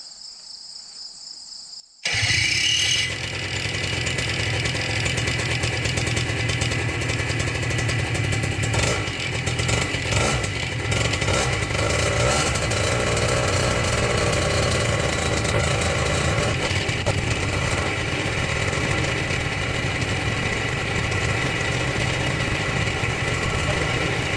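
A Blackhawk Talon 190 paramotor engine runs during break-in. A brief high whine is followed by the engine catching, then a loud, steady, close buzzing drone that continues for about twenty seconds with slight rises and dips.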